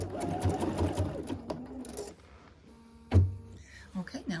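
A home sewing machine runs in a steady whirring burst for about two seconds while stitching a sew-along project. A brief thump follows, then quieter handling noises.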